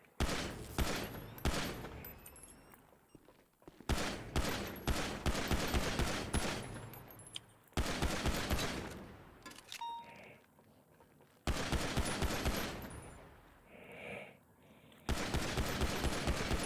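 Loud automatic gunfire from a GTA roleplay video game comes in several long, rapid bursts separated by brief pauses, each sustained volley dense and close.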